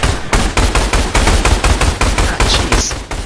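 Rapid, loud bursts of gunfire from a shotgun in the video game Orion Prelude, the blasts coming close together in a steady run for the whole stretch.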